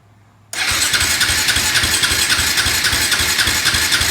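A quad ATV engine catches after a brief silence and settles into a loud, steady idle with an even, throbbing pulse, close up.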